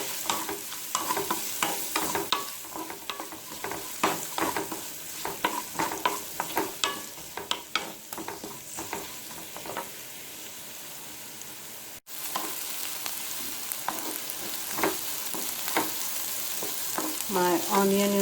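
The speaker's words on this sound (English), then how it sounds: "next I'm going to add the chopped onions, until it changes the color." Chopped onions frying in a pan for Kerala black chickpea curry, a continuous close sizzle broken by frequent quick stirring scrapes, briefly dropping out midway before resuming.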